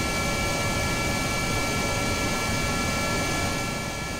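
Rocket engine noise from the Kerbal Space Program video game, a loud, steady hissing roar with constant tonal hum lines that hold unchanged throughout, no speech.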